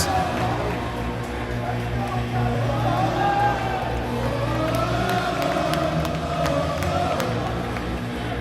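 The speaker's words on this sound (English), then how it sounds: "This crowd is fired up now." A hockey arena crowd at a Miami University vs. Indiana University game roars after a goal ties the score, making a steady, loud, continuous wash of cheering with indistinct voices mixed in.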